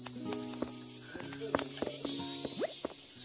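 Cicadas chirp in the Animal Crossing New Horizons video game, a steady buzzing drone in a museum insect exhibit, with soft clicks and footsteps and a voice talking over it.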